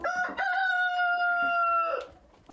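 A rooster crows on a monastery farm, giving one long, loud, clear cock-a-doodle-doo close by, with faint background clucks.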